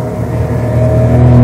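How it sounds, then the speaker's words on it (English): A small car engine revved hard near 6000 rpm sends out a loud, steady, rising drone with strong low harmonics, up close and without talk, a budget hatchback without a turbo. "that's the engine at 6000 rpm. That's a lot of sound."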